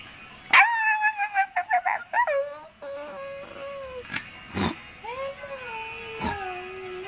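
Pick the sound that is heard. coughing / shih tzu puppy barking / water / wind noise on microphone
shih tzu puppy barking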